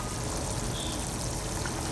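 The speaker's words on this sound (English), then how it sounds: "The soup is boiling already." A pot of laksa soup bubbling at a boil, a dense, continuous, close wash of gurgling and splashing with no voices.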